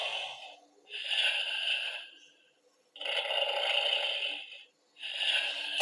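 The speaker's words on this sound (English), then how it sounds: "I forgot it snores" A Dino Fury Gold Fury Blade Blaster toy plays an electronic snoring effect: three long, raspy, wheezing breaths from a small speaker, close and loud with brief gaps between them.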